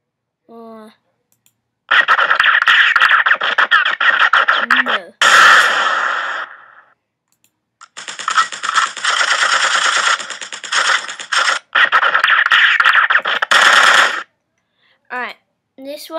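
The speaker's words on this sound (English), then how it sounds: "let's just look for machine gun sound effect." Machine gun sound effects played back while previewing clips for a gun muzzle edit: long dense bursts of rapid automatic fire in several stretches, loud and close, separated by short gaps and a few brief pops.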